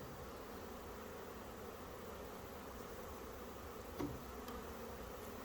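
Honeybees hum in a dense, steady buzz close around a beekeeper at an eight-frame hive, a constant drone with no talk.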